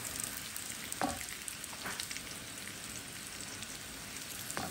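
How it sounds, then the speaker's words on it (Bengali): Frozen chicken nuggets fry in hot oil with a steady, close sizzling hiss, broken by a couple of faint spatters or stirring clicks, and no voices. "এদিকে নাগেটগুলো ভাজছি"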